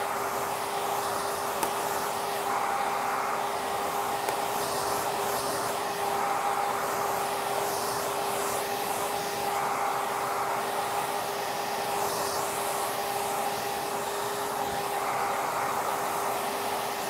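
A hair dryer blowing hair straight, a steady close airy whoosh with a constant motor whine running the full length, slight fluctuations as the airflow moves, and no voices.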